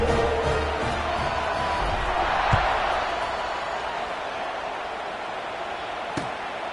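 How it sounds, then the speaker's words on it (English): A stadium crowd in the College Football 26 video game keeps up a steady, broad roar at kickoff. It holds fairly constant, with faint thumps and calls under it and no spoken voices. "Do you think this crowd's going to get loud when their defense comes on the field?"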